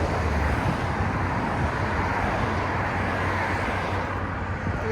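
A 1997 Lexus LX 450 with its 4.5L inline-six and Borla ProXS exhaust drones steadily in a low, even rumble, with road and traffic noise blended in throughout.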